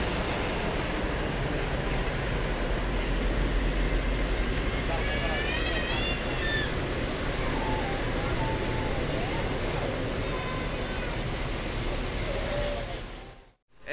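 A train departs from a station in Padang during the holiday travel rush, a steady rumbling roar with squealing wheel tones, under a loudspeaker announcement, before cutting off abruptly.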